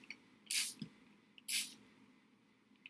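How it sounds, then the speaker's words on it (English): Two short hissing bursts from a spray bottle onto coffee filter art, about a second apart, close and clear against a quiet background. "I love to do the spray."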